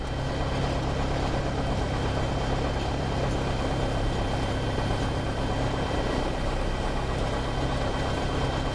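A Cessna light aircraft taking off from runway 33 right, its engine producing a steady, loud broadband drone with a low rumble that continues without a break.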